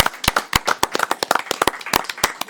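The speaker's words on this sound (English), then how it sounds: "Then let's give Lester Rice a big round of applause." A small group at a council meeting claps, sharp irregular hand claps overlapping at close range, loud and lively for a couple of seconds.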